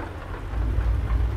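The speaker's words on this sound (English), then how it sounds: "And it's raining." Rain falls outside a truck cab with deep thunder rolling underneath, a steady wash of drops and a low rumble swelling louder toward the end, no talk.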